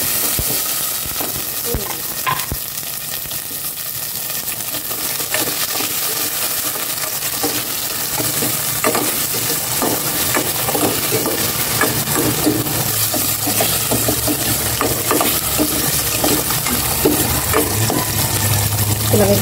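Onion sizzles loudly in a frying pan for pork, a dense continuous crackle close up with frequent scraping stirs and light clinks running throughout.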